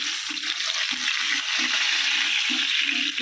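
Koi fish frying in hot oil, a steady bright sizzle that holds throughout, with a low bubbling pulse rising and falling every half second or so underneath.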